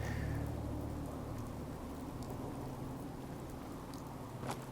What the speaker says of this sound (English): it is, what, nighttime and raining?